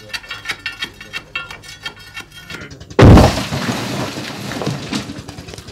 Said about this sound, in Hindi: इसमें बारूद से धमाका किया जाता है।